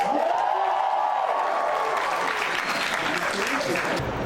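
A convention crowd at New York Comic-Con cheers and applauds, loud and sustained, with whoops and voices mixed into the roar.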